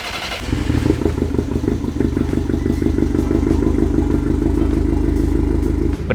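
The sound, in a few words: VW Polo engine started and running after tuning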